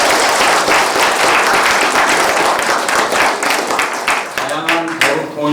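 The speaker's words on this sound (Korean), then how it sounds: "이럴 때 박수 한번 쳐주셨대요" An audience at the launch ceremony of the Yongsan district council of the Democratic Peaceful Unification Advisory Council claps continuously for about five seconds, a steady loud wash of applause that thins out toward the end as a voice begins speaking.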